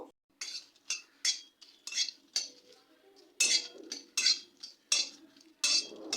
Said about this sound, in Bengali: শুকনো লঙ্কাটা একটু নাড়াচাড়া করে নেব